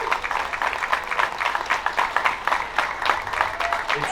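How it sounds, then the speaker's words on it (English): Crowd applauding at the 51st annual Puerto Rican flag raising ceremony outside City Hall in Paterson, a steady dense roll of many hands clapping throughout, with a few brief voices mixed in. "Keep that applause going."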